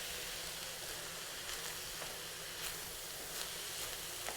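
Chopped green onions sizzling in a pan for a vegan celery and green onion sambosak filling, a faint steady hiss with occasional soft pops.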